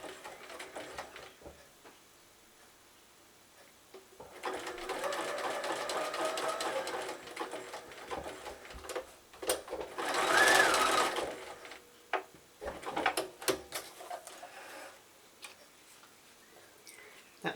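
A sewing machine runs a final tension test stitch, its needle ticking and whirring in steady bursts separated by pauses and quiet clicks.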